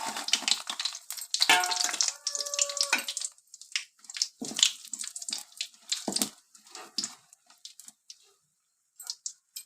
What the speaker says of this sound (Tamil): இப்போ எண்ணெய் நல்லா காஞ்சிடுச்சு. கடுகு போட்டுக்கலாம்.